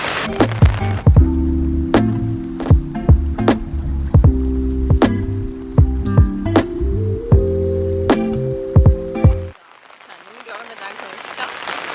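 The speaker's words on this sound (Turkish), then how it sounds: "cumartesi günü çok güzel bir yağmur yağıyor" Steady rain patters in Antalya over a low engine-like hum, with scattered sharp drips and taps, then the hum cuts out leaving a softer wash of rainfall.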